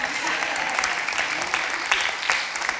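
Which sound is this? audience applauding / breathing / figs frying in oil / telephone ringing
audience applauding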